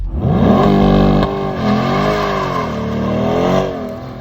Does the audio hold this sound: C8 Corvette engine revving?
yes